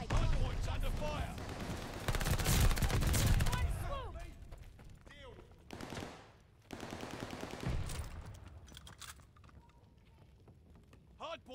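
Bursts of automatic gunfire and explosions ring out in a Call of Duty: Vanguard multiplayer hardpoint match, loud and dense at first, then thinning into sporadic shots and mechanical clatter.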